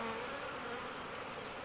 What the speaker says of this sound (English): Okay, so we've got a frame that's worth harvesting. So shake the bees off.